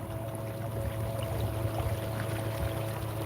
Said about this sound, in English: You're hearing electric motor sound.